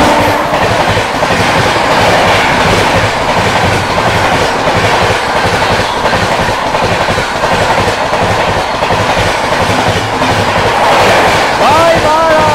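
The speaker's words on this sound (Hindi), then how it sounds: "पीछे से आती हुई 12259 शालदा बीकानेर AC दुरंतो आती हुई दोस्तों अपनी ट्रेन को ओवरटेक करने" The 12259 Sealdah–Bikaner AC Duronto Express overtakes close by on the adjacent track, a loud continuous rumble with rhythmic clickety-clack of wheels over rail joints and a faint squeal near the end.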